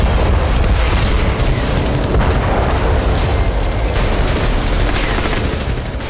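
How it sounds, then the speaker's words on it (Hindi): A loud, continuous barrage of booming blasts and crackling rumble from a missile strike in the Russia-Ukraine war, dense and sustained throughout, like a heavy explosion with ongoing detonations. "आसमान से मिसाइल गिरी, जोरदार धमाका हुआ"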